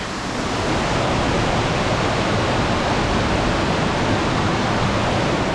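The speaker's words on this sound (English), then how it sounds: "Well, we made it to the waterfalls." A waterfall reached on a wet, cold hike near Great Sand Dunes, Colorado, pours in a continuous, loud, even rush of white water with no voices.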